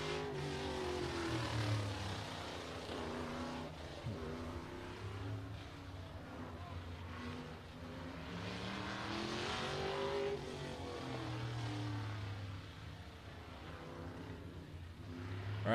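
Race cars at Showtime Speedway in Pinellas Park, Florida, take the green flag, a continuous engine drone with rising and falling revs heard at a distance, steady and fairly quiet throughout.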